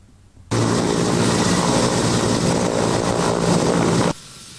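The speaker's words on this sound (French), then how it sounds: "Un hélicoptère Mi-171 de l'armée de l'air se pose à Djema" Mi-171 air force helicopter landing at Djema in the Sahel, a loud, steady rotor and turbine roar that starts abruptly and holds at constant strength for several seconds before cutting off.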